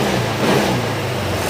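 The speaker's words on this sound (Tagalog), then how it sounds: "Kaya yung tulog ng makina sa ADB, sa vibration niya ay normal lang yan" A Honda ADV160 scooter engine runs steadily after repair, a close, continuous mid-pitched hum with slight vibration and no talk over it.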